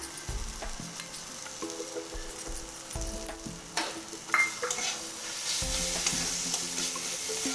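Fried Gobindobhog rice is stirred into cooked spice paste in a pan. A spoon scrapes and clatters in uneven strokes over a soft sizzle that builds louder toward the end.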